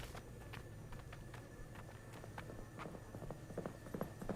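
A horse rider from the film Willow gallops past, hoofbeats sounding as a fast series of sharp, mid-distance thuds over a steady background hum that grow a little louder and denser toward the end.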